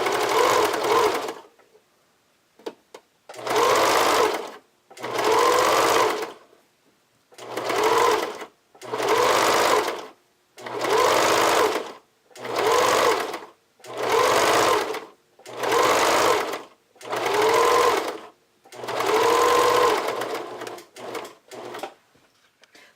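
A sewing machine stitches elastic onto narrow thong fabric in about a dozen short close bursts, its motor whirring and needle chattering, each run separated by brief pauses.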